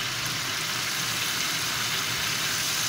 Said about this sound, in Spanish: Aquí tengo el ventilador